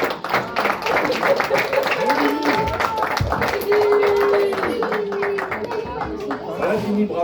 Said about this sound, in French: On va pouvoir t'applaudir